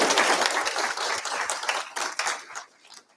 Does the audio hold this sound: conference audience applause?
yes